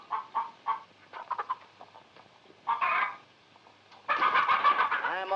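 Chickens clucking in short bursts and louder squawking calls, close and distinct against a quiet background, in a 1952 film scene of feeding the chickens.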